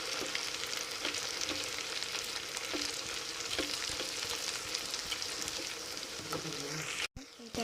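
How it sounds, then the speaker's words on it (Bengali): Vegetable fritters (bora) frying in hot oil, a steady crackling sizzle with scattered pops and light stirring clicks throughout, briefly cut off near the end. "তো বড়াগুলো ভালোভাবে আমি লাল করে ভেজে নেব।"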